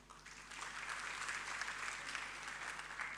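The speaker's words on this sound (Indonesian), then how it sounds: "Kasih tepuk tangan dulu buat Gen Z." A church prayer-fellowship congregation claps steadily for Gen Z, a dense, sustained wash of applause from a roomful of people that swells after the first half-second and holds at an even level.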